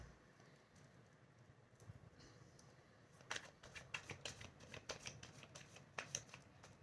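Tarot cards are shuffled by hand, giving a faint, rapid riffle of crisp paper flicks that builds into a dense patter in the second half, close and quiet with no voices.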